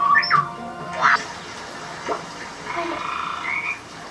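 A frog croaks in a Star Wars series episode, with a few short croaks and squawk-like calls, moderately loud over a steady ambient scene bed.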